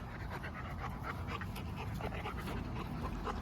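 A Rottweiler pants rapidly and rhythmically close by, quick breathy huffs repeating steadily for a few seconds.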